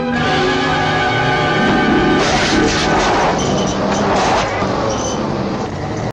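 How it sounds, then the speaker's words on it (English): A 1954 car engine roars as the car is shoved into reverse in the desert during a film chase, loud and rough, mixed with crashing and shouting-like film sound. "shoves the car in reverse and hits Henry"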